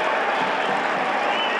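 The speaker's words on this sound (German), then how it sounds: "Warmer Applaus." Football stadium crowd applauding warmly at a FSV Zwickau versus FC Ingolstadt match, a dense continuous roar of clapping and crowd noise, loud and even throughout.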